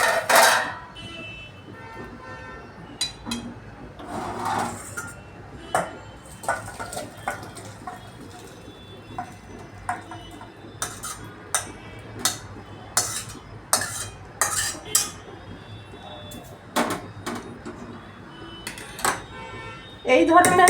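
A cauliflower, potato, carrot and pea curry being ladled from a pot into a dish, with irregular metallic scrapes and clinks of spoon on cookware, sharp knocks between quieter stretches.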